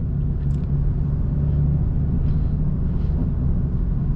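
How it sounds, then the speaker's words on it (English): A four-cylinder BMW 330i tuned to 340 horsepower idles in Augusta traffic, a steady low engine rumble heard from inside the car, even and unchanging with faint sounds from outside. "And now we stuck in some traffic."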